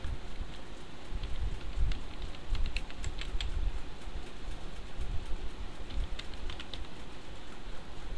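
A web address is typed on a computer keyboard in a short run of quick, light key clicks over a steady background hiss, followed by a second burst of keystrokes near the end.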